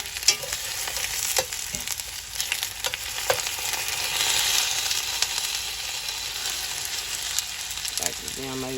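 Potatoes fry in a cast iron skillet at deer camp, a loud, continuous crackling sizzle close by with occasional scraping stirs and small pops.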